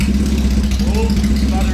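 A Triumph motorcycle engine runs close by with a steady, uneven low rumble that sputters slightly through the short stretch, loud and continuous with no speech over it.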